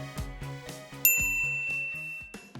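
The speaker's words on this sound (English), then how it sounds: "be sure to subscribe and ring the bell to get notified about our latest videos" Notification bell sound effect, a clear bright ding ringing out over a plucky musical jingle with a bouncing bassline, loud and close with no voices.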